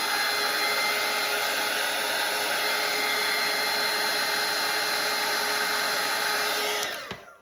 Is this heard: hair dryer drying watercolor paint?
yes